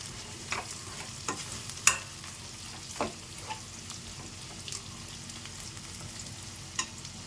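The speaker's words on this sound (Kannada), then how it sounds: "ಸ್ವಲ್ಪ ಜೀರಿಗೆ ಪುಡಿ, ಹಾಕಿ ಫ್ರೈ ಮಾಡ್ಕೊಳ್ಳೋಣ." Cumin powder fries in a pan for a quick potato rice: a quiet, low sizzle continues under occasional sharp spoon scrapes and clinks against the pan, spaced irregularly about a second apart.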